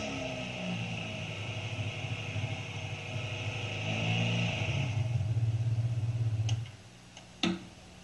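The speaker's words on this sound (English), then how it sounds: "To make sure you've done the job right, start the engine." A motorcycle engine idles steadily after a valve job with refaced seats, a continuous low rumble that swells through the middle, then cuts off abruptly near the end, followed by a couple of sharp clicks and a brief burst.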